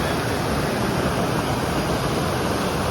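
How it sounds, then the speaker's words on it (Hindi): A waterfall at Ban Ganga on the mountain pilgrimage route to Vaishno Devi, with natural water pouring down between the hills in a loud, steady, unbroken rush. "ये आपका झरना है, पहाड़ों के बीच से बिल्कुल नेचुरल पानी आ रहा है।"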